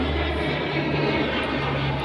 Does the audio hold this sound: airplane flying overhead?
yes